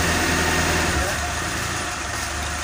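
A Suzuki Espass engine idles on LPG, a steady low rumble held close and continuous throughout, with faint talk mixed in.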